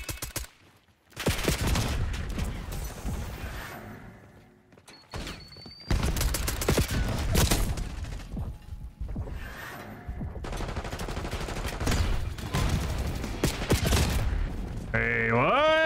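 Gunfire in Black Ops 6 multiplayer: dense rapid bursts of automatic fire, loud and close, broken by short pauses and ending with game effects, with someone talking between bursts.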